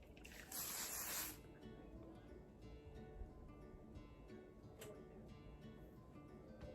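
Hairspray hisses onto hair during a textured updo, one steady burst of about a second near the start, followed by quieter rustling and handling.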